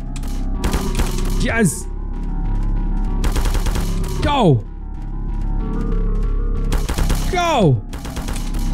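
Bursts of gunfire in the pixel-art horror game Happyhills Homicide come in three clusters of rapid shots, each ending in a falling, whooshing sweep, while a player shouts excitedly over them.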